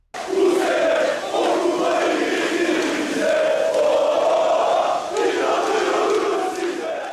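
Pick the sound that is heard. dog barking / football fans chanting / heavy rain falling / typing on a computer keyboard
football fans chanting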